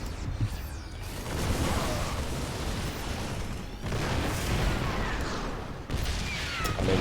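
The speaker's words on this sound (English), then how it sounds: "I mean, the siege tanks are doing a lot of work." Siege tanks firing in a StarCraft battle, a dense continuous barrage of blasts and mechanical clatter with brief breaks, moderately loud and without talk.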